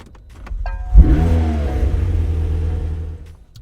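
A starter whirs and a 2020 McLaren 720S Spider supercar engine fires up with a loud bark, then settles into a deep, steady idle rumble.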